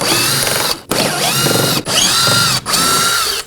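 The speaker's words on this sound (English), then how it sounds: "I'll be using a 5/32 drill bit to remove it" A power drill whirs loudly in three bursts separated by brief pauses, a 5/32 bit grinding as it bores out a corroded, stripped bolt on a 2018-2024 Chevrolet Equinox.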